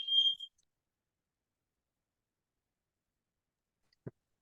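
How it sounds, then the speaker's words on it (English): A fire alarm sounds in the background of a regular meeting: a single short, high electronic tone at the start, followed by silence and one soft thump. "This fire alarm going in the background."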